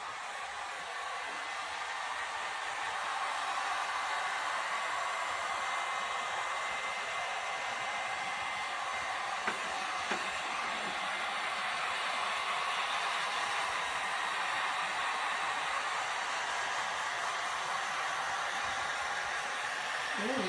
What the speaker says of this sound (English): I am going to turn on my heat gun and dry this first coat real quick here